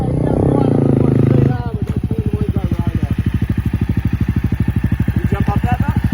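A Honda CRF250L dirt bike climbs an off-road hill, its engine starting as a heavy, loud roar and then settling into a close, steady, rapid throbbing pulse.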